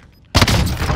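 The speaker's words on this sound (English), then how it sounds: "I'm getting shot at from down there" Call of Duty Warzone gunfire erupting suddenly after a quiet moment, a loud close volley of shots with a booming tail.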